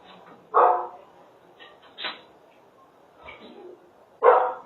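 Dogs bark near an apartment in several loud, separate bursts with pauses between them. People talk faintly in the background.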